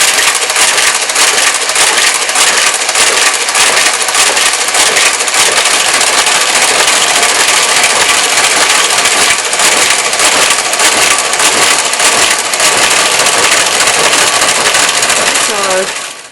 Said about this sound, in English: You push the start button and away it goes.